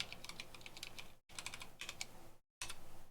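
Quick, clicky keystrokes on a computer keyboard, typed close up in short bursts split by two brief pauses of silence.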